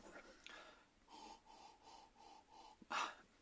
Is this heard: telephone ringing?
no